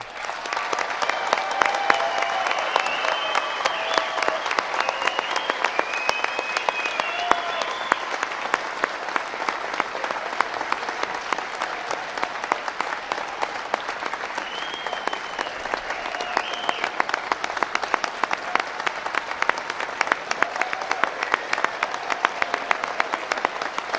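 Graduation commencement crowd applauding the class of 2021 at Manchester University, a dense, steady wash of many hands clapping for the whole stretch, with a few cheers and whoops rising over it.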